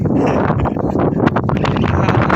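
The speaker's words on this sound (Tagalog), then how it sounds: "Lakas ng hangin na napakasarap." Strong wind roars steadily against the microphone, a dense continuous buffeting with no pauses.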